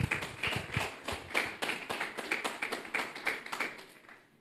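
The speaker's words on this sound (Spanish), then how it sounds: "Cuántos pueden dar un fuerte aplauso a esa palabra fiel y digna" Church congregation clapping in a loose, uneven patter of individual claps, moderately close, tapering off near the end.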